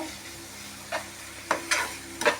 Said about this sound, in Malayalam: പാൻ കുറച്ചിട്ട് നമുക്ക് എന്താ ഇങ്ങനെ ഇളക്കി കൊടുക്കുക